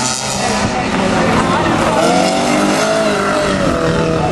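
Peugeot 205 race car at the La Pernelle Fol'car race, its engine loud and continuous with other cars, while a commentator talks over it throughout.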